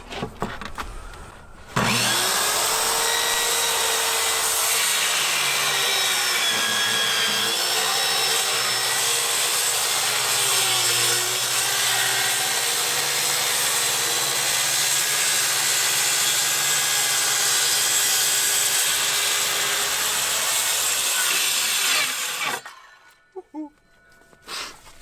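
A power saw cuts through wood for building apple boxes, a loud continuous buzzing whine starting abruptly after a brief pause and running steadily for about twenty seconds before cutting off, with rustling at the end.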